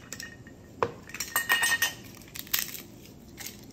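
A cinnamon stick dropped into a cooking pan gives a sharp clink followed by a few light rattling knocks against the metal, close and clear with no talking.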